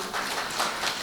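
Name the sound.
audience applause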